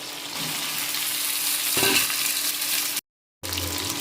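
Curry leaves, two large onions, a tomato and brinjal split into quarters sauté in hot oil with salt for an oil brinjal kuzhambu. A steady, close sizzle with a brief stir-rattle, a sudden short gap near the end, then the frying resumes.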